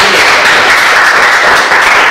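Students in a classroom clap together in a loud, close burst of applause, dense and even throughout.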